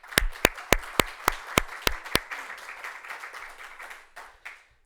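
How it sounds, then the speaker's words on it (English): A small audience at a New York City press conference for the Puerto Rican Day Parade applauds an honoree, with a few sharp, evenly spaced claps standing out close by over softer group clapping that fades away. "Please give a round of applause for LGBTQIA civil rights activist Victoria Cruz."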